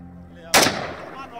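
A single loud gunshot from a soldier, a sharp blast at close range followed by a long echoing decay with no talking.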